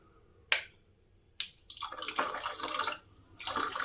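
Two sharp clicks from a solenoid valve being switched on come before water gushes out, a strong splashing flow that briefly drops away and then surges again, close and alone.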